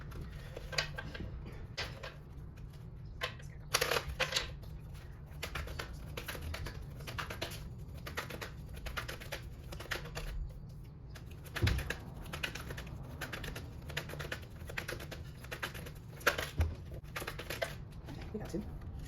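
Tarot cards from a Hoodoo deck shuffled and pulled at a table, giving repeated soft crisp taps and flicks close by, with a few sharper slaps. A voice is faintly present underneath.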